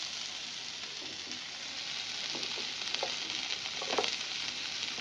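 Pumpkin pieces fry in a little oil in a pan, giving a soft, continuous sizzle with a few faint crackles and stirring scrapes near the end, and no voices.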